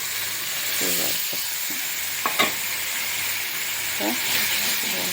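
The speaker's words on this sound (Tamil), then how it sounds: "நல்லா கிண்டி" Sugar and water for ghee Mysore pak are stirred in a pan with a continuous sizzling, scraping hiss, broken by a few clinks of the spoon and brief faint voice sounds.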